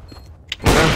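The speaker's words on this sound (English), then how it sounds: "Throwing a grenade." A grenade thrown in Counter-Strike: Global Offensive on the Dust 2 map, with soft clicks and a small metallic tick followed by a sudden loud, broad blast that fills the last third of the moment.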